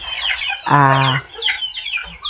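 Gamecock stags in a yard, clucking and squawking nearby, with one louder drawn-out call in the middle among softer chatter.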